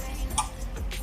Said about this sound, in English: A clock. Yeah.